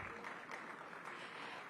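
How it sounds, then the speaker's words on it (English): Faint, distant audience applause fills a large conference hall at a political event, a steady dense patter of many hands with no talk over it. "Huge round of applause, ladies and gentlemen."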